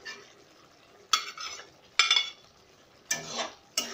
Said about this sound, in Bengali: চিংড়ি মাছগুলো দিয়ে ভালো করে কষিয়ে নেব।